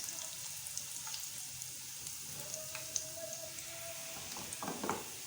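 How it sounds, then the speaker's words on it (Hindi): Garlic cloves, whole green chillies and cumin frying together for a whole masoor dal, a faint steady sizzle with light crackles and a brief stir near the end, quiet and close. "इनको अच्छी तरह से फ्राई करें, गोल्डन सा कलर आना चाहिए"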